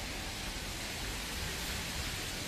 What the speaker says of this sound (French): On va braver la pluie pour y aller.